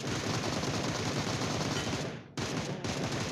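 Continuous automatic gunfire in the battle royale game PUBG, a dense, loud rattling stream with a brief break before the firing resumes.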